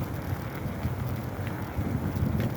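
Cold winter wind buffeting a microphone while cycling along a quiet lakeside park path in the early morning, a steady low roaring rush with gusty swells throughout.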